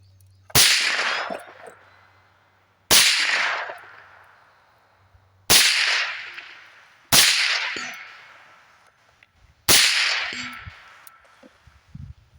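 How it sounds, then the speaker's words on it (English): Five suppressed rifle shots of Remington 120 grain supersonic ammunition through a DDC Enticer L suppressor, fired into dirt, each a sharp loud crack with a decaying tail, spaced a couple of seconds apart, no talking. "So we're gonna shoot the supers first and see how they sound with this longer can"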